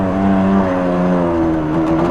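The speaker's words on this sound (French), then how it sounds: "350 cm3. Le petit bicylindre fait son boulot." Yamaha Banshee 350 quad with a two-stroke twin-cylinder engine revs hard and close, a loud raspy buzz whose pitch climbs steadily through a single short pull.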